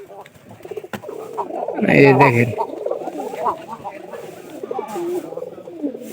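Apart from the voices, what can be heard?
pigeon squabs cooing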